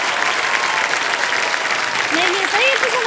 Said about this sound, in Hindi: सब लोग खड़े होकर के ताली बजा रहे हैं तुम्हारे लिए